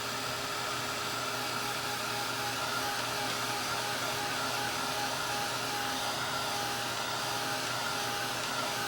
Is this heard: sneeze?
no